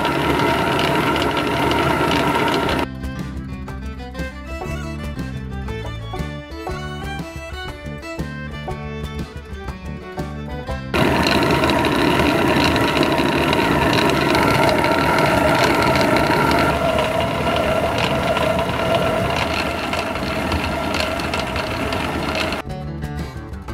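An antique stone mill grinds wheat into flour, giving a steady, loud mechanical rumble with rhythmic ratcheting and grinding. A brief stretch of tonal, patterned sound breaks in partway through, and no talk is heard.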